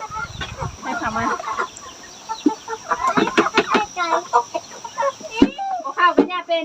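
Chickens on a simple rural homestead in Laos cluck and chatter continuously at close range, with overlapping busy calls from several birds.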